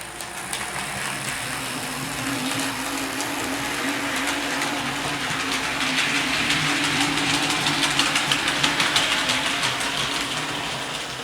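IHC Southern Pacific Daylight 4-6-2 Pacific model train locomotive running in reverse, a steady electric motor whir with faint rolling hiss that builds slightly, close and continuous, with no voices.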